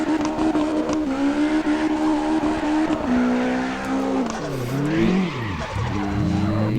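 Tires squeal and skid continuously as a car drifts in CarX Drift Racing on worn-out tires, the pitch sliding up and down over steady engine drone, loud and close with no talking.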